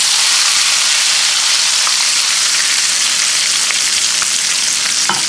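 Hot spiced oil tempering with chilies poured over mutton for Hyderabadi masala mutton on high flame, giving a loud, dense, continuous hiss-and-crackle sizzle that fills the whole stretch, close and without talk.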